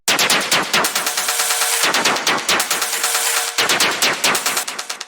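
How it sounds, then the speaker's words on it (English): Harsh industrial noise percussion built from vinyl noise, dense rapid crackling bursts in a driving rhythm, loud and abrasive throughout with brief stuttering breaks. "first thing that we have up here are these noise percussions"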